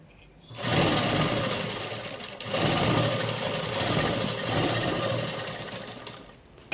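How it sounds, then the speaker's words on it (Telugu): A sewing machine runs a stitch through dress fabric, a close, steady mechanical whir with rapid needle chatter that starts after a short pause, dips briefly and resumes, continuing alone without speech. "ఎదురెదురుగా పెట్టుకొని కుట్టు అనేది వేసేసుకోవాలి."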